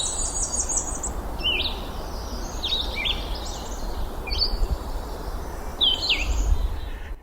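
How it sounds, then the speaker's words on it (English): A white-throated sparrow sings in Bangor City Forest, its clear whistled phrases repeating about four times at a steady pace, moderately distant over a soft woodland hum with no talk. "You probably heard the white-throated sparrow, old Sam Peabody, Peabody, Peabody."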